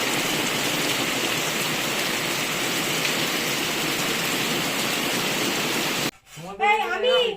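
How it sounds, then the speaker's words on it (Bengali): Heavy rain pours down steadily around an old house, a dense, loud, continuous hiss lasting about six seconds before it cuts away and a nearby voice starts talking. "বৃষ্টি হচ্ছে দেখো প্রচন্ড বৃষ্টি হচ্ছে"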